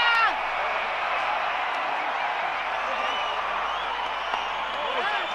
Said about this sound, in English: And the crowd's delighted.